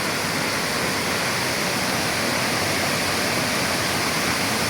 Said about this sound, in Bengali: এই যে অসাধারণ কুমারী ঝর্ণা